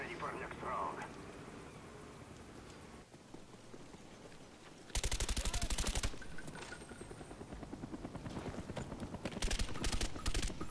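Rapid automatic fire from the Commando assault rifle in Call of Duty Black Ops 2, fairly faint bursts that start abruptly midway and continue in stuttering runs, with people talking over it.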